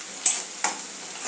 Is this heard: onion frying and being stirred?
yes